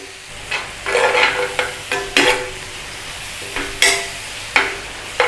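Chicken paella ingredients fry in a cast iron pan, with a steady soft sizzle and repeated scraping stirs that come in short, uneven bursts, close and unaccompanied by talk.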